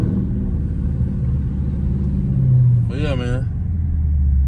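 A Dodge Scat Pack's engine rumbles steadily, then downshifts with a quick rising and falling rev blip near the end. Someone talks casually over the drone.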